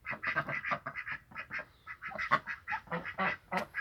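Ducks quack in a rapid, overlapping series of short calls, fairly close and moderately loud, with no talking.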